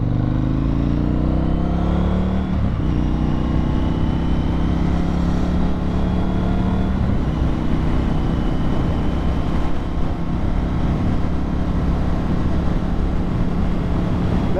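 Harley-Davidson-style FTR 1200 motorcycle with Brembo brakes braking hard to a stop: steady loud engine drone with a falling pitch as the bike decelerates, engine note continuing near and loud throughout, no talking.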